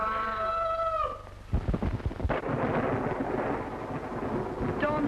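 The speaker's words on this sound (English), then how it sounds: "Storm's just as bad as ever, isn't it?" Thunderstorm with a sharp crack and rolling thunder over steady rain, loud and close, breaking in after a stretch of sustained musical tones.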